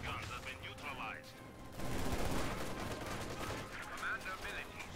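Machine-gun fire from a Company of Heroes 2 battle, a dense, sustained stretch of rattling gunfire with other shots and battlefield noise mixed in, loud throughout and heaviest toward the middle, with a voice talking over it.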